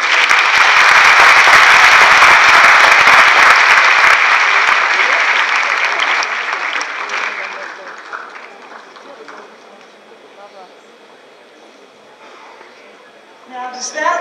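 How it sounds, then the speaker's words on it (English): Audience at a university honors convocation applauding honor students, a loud burst of dense clapping that fills the hall, then gradually thins and fades, with a brief renewed swell at the very end. "ask you all to join me in applauding our honor students and future mentors"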